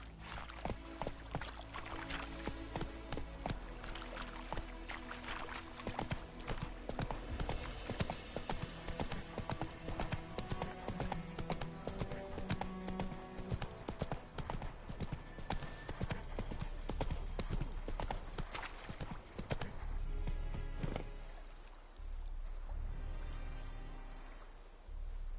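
In The Witcher 3 on PS5, a horse's hooves beat in a steady, rapid clip-clop of galloping for about twenty seconds, fairly faint in the mix, then slow and fade near the end.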